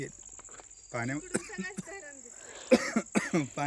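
A person out walking by a dam coughs a few times in short bursts, close to the microphone, with talking around the coughs and faint insect chirps in the background.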